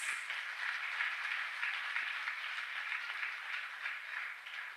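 A crowd of parents at a school annual day applauds the teachers with steady, dense clapping across a large hall, sustained and fairly distant, with no voices over it.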